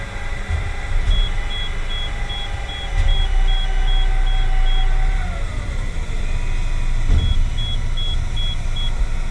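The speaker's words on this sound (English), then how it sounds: "hear those fans? They actually get louder than that." Radiator cooling fans, five of them on the back of the radiator, run with a steady whooshing roar inside a car, holding a constant level with a faint beep and shifting mechanical tones over the top.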